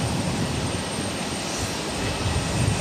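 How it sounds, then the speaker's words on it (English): A Southwest Airlines Boeing 737 MAX 8 roars down the runway on takeoff, a loud, steady, broadband engine rumble that holds throughout without a break. "This is Southwest Airlines 2395 taking off to Austin on a MAX 8."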